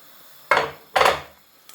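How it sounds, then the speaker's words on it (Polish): Two heavy splashing thuds half a second apart as whole carrots drop into a pot of boiling water, with a faint bubbling background. "Do tej gotującej się wody wrzucamy całą naszą marchewkę"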